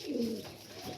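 A young teddy pigeon gives one soft, low coo close by, followed by a fainter murmur in a quiet room.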